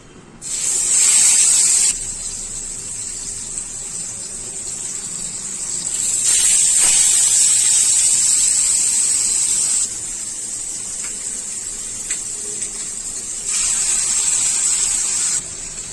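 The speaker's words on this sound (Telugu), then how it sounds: "ఇప్పుడు మ్యారినేషన్ చేసుకున్న ఈ చేపల్ని ఒక్కొక్కటిగా తీసుకొని మనం ఆయిల్లో వేసుకుందాము" Marinated fish pieces go one by one into hot oil, each drop setting off a loud, sharp sizzle that settles into a steady hissing fry, repeating in several bursts with no talking.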